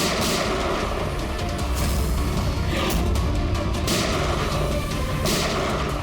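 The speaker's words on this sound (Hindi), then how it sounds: "सर, ऐसी गोली चलाते रहा तो बहुत देर हो जाएगी सर।" Gunfire in a tense police action scene, a dense continuous barrage of shots and booms filling the whole stretch, loud and close with no talk.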